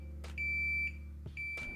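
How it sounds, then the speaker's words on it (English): A Samsung refrigerator in forced defrost mode gives two steady electronic beeps, each about half a second long, over a low, constant hum. "you're going to hear a beeping sound that sounds like this"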